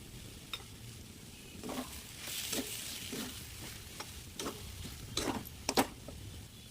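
Spices with salt, turmeric and sugar sauté in a pan, giving a soft, steady sizzle broken by repeated scraping stirring strokes that come and go at an uneven pace.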